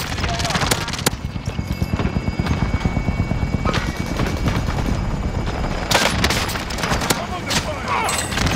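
Helicopter rotor chopping steadily in Call of Duty Warzone, mixed with bursts of gunfire and sharp impacts, while players talk over the action.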